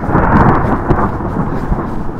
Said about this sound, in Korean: 천둥 번개가 치고 비가 막 오기 시작합니다.